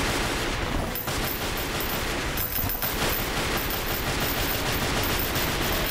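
Arcia's gun firing in the video game Chaos Legion, a dense, continuous barrage of rapid shots with loud game effects layered on top, running steadily with only brief dips.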